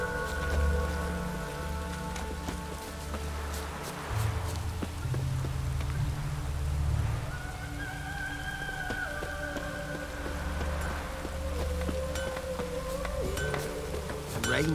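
Rain falls steadily in The Witcher III, a soft, continuous patter of drops on surfaces with occasional sharper drips and faint clinks, while low ambient game tones hum underneath and no one speaks.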